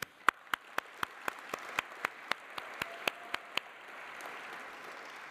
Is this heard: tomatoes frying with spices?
no